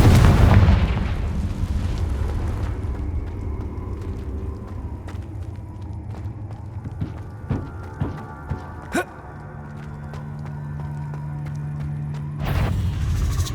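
Confringo blasting spells explode in Hogwarts Legacy PS5 gameplay: a heavy rumbling boom opens, then a low steady rumble follows, broken by several sharp bursts and pops near the end before another swell. No one speaks.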